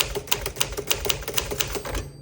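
A 1957-58 Smith Corona Tower President manual typewriter clacks in a steady, rapid run of keystrokes, close and crisp, with the margin bell chiming amid the typing.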